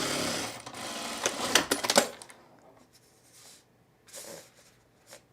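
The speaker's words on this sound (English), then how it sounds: "This fabric sounds different to sew on" A sewing machine stitches Dollar Tree fabric in a fast, rattling run that stops abruptly, followed by a short second burst of stitching after a pause.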